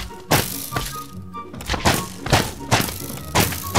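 Minecraft crossbow with multishot firing in quick succession, giving a rapid run of punchy thunks and cracks with rattling between them, loud and close in the game.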